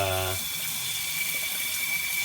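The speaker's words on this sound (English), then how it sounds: "I'm using way less water in order to rinse the exact same amount" Water streaming steadily from a kitchen faucet at high pressure while dishes are rinsed, a continuous close hiss that follows a brief low hum at the start, with no speech.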